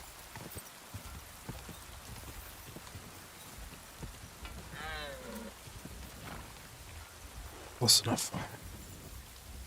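Rain falls steadily in the video game Kingdom Come: Deliverance 2, a soft constant patter with hoof clops and a brief horse whinny, while someone talks briefly.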